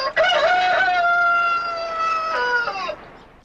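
A rooster crows once in a film scene, loud and close: a long, sustained cock-a-doodle-doo with a rising start and a falling, trailing end, heard alone.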